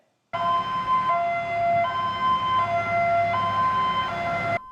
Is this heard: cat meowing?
no